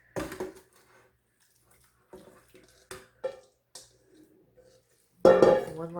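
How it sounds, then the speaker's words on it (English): Metal spoon scraping and clinking around the inner pot of an Instant Pot holding tender pot roast with carrots and potatoes, with several short sparse scrapes and a louder burst of stirring near the end. "One last stir."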